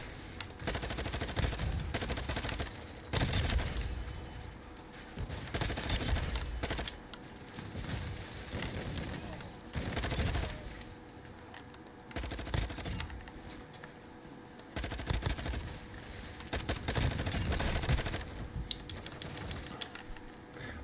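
Rapid bursts of video game gunfire from headshots come in loud clustered volleys with short pauses between them, alongside clicking that resembles keyboard typing.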